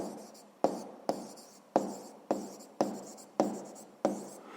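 Pen or chalk strokes jotting down an answer during a grade 7 physics exercise, seven crisp taps at steady intervals, each trailing off in a short scratchy sweep, close and clear with no talk.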